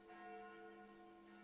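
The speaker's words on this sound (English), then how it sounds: "Those sound like the church's noontime bells." Church bells ring out at noon in a video game, a faint, sustained, distant-sounding peal with lingering tones.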